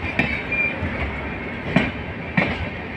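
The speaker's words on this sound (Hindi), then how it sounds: "ये लखनऊ गोमती एक्सप्रेस है, जो यहाँ से गाज़ियाबाद यार्ड से निकल रही है" The Lucknow Gomti Express rolls out of Ghaziabad yard, heard from a nearby moving train as a steady rumble with clickety-clack wheel beats, a few sharp rail clanks and a faint squeal, without speech.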